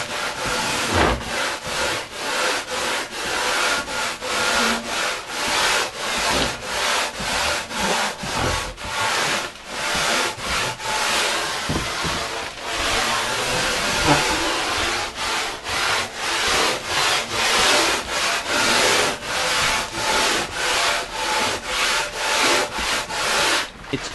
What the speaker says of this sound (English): Now we're going to wrap the sandpaper right around the rail and profile it